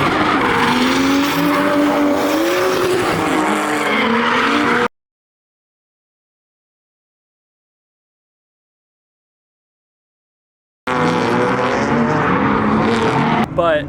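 Drift cars run a three-car tandem with engines roaring and tires squealing in rising and falling pitch. Loud bursts of sound are broken by a long silent gap in the middle.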